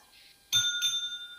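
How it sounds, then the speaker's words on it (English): A bell used as a debate timer is rung once at a teachers' podium debate final, a sharp bright ding with a ringing tail that is struck again moments later, close and clear after quiet. "you'll hear the bell. Could you touch it and let them hear?"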